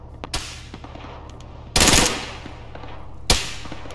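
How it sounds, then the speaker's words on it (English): Machine gun fire in a snowy combat video game: a loud close burst in the middle and sharp single shots before and after, with scattered distant gunfire in between. "Stop shooting at me."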